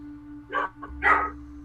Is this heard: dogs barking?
yes